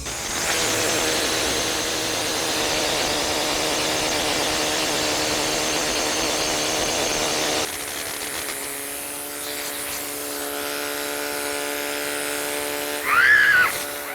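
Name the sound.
bush hammer dressing a stone surface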